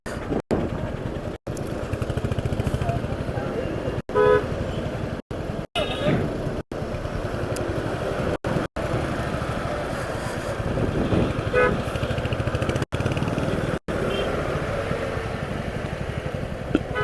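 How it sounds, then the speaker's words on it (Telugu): Heavy road traffic on a new road between Hyderabad and Sangareddy, with a steady roar of engines, motorcycles passing and car horns tooting now and then, while a person talks over the noise. "హెవీ ట్రాఫిక్ ఉంటుంది ఇక్కడ."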